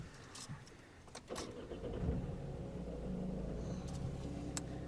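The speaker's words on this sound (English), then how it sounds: "I'm going to go right ahead and start the car" A Vauxhall car engine, after a glow plug change, cranks and catches, then settles into a steady low idle, with a few small clicks and rattles before it starts.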